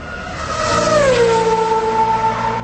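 A Hero Xtreme 160R motorcycle engine runs loud and close on a ride, a steady droning hum that slides down in pitch, then holds even, with no talking.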